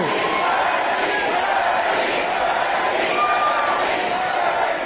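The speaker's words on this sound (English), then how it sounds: "Listen to that crowd." A big political rally crowd keeps up a loud, sustained roar of shouts and cheers, with a few voices standing out from the mass, steady from start to finish.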